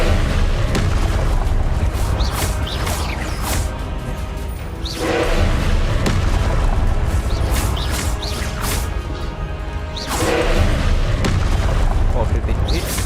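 Booming spell blasts and crashing impacts from the video game Hogwarts Legacy, loud and continuous with rumbling explosions, while a player calls out spell names over the action.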